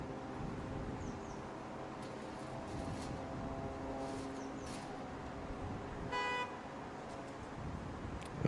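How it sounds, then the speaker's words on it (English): A car on a quiet street gives one brief horn toot midway, faint and somewhat distant over a low, steady wash of traffic noise. "Someone stepped down in front of a car, it sounds like."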